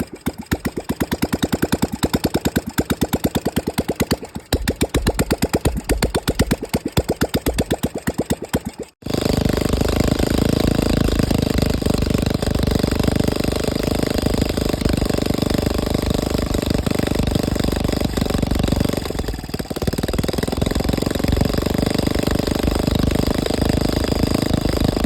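An old Royal Enfield Bullet Standard 350 single-cylinder engine under restoration, first sputtering with rapid irregular thumps, then catching and running loud and steady at close range for most of the stretch.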